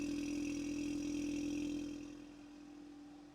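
A Ford Mustang EcoBoost fitted with a cold air intake idles close by with a steady, humming drone that drops in level partway through, and no one speaks.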